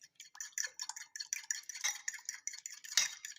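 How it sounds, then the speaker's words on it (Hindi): Two eggs being whisked in a bowl, a quick run of light metallic ticks and clinks as the whisk strikes the bowl, steady and close with no voices. "तो दोस्तों हमने बाउल में दोनों एग्स को निकाल लिया। अब हम इन्हें फेंटना स्टार्ट करते हैं।"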